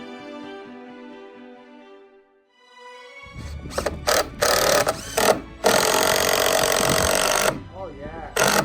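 Power tool driving the last screws into wooden lattice, several whirring, ratcheting bursts up close after a quiet tonal opening.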